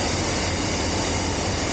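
A steam locomotive train in Bangkok, one of a series numbered 821 to 850, gives off a steady, dense rumble, close and unbroken, with no talking over it.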